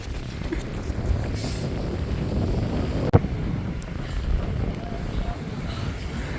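Strong wind blows outdoors in Spain, buffeting the microphone with a steady, heavy low rumble and gusty roar throughout, with a single sharp knock midway.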